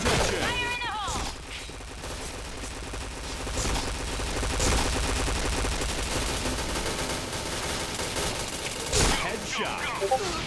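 Rapid bursts of automatic gunfire ring out in the PointBlank shooting game, repeated volleys spread across the stretch, with in-game voice callouts and player talk mixed in.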